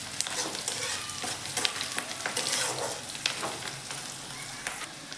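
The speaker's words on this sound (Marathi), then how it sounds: "आपण थोडासा कढीपत्ता पण टाकून घेणार आहोत आता." Curry leaves crackle and sizzle in hot oil with onions frying for a horse gram curry, a steady close sputter with occasional sharper pops and stirring scrapes, alone without talking.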